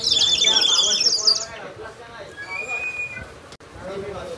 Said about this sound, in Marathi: चिमण्या ओरडवतात.